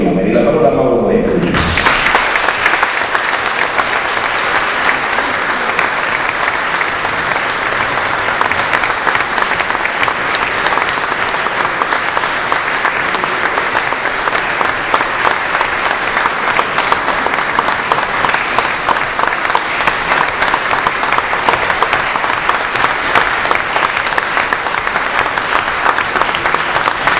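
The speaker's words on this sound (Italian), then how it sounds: "un applauso per lei, perché ha sentato le cose." Loud, sustained applause from an audience at an Italian public conference on railways. Dense, even clapping fills the whole clip without a break after a brief opening voice.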